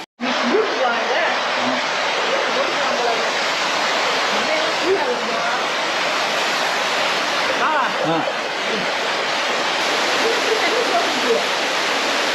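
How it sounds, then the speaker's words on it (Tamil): Waterfall in the Aareschlucht gorge roaring steadily and loudly from start to finish, a dense, constant rush of falling water close by with no pauses. "இந்த ஃபால்ஸ் தான் போடுது அந்த ரிவர்ல."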